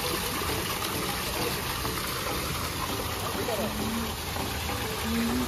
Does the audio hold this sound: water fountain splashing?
yes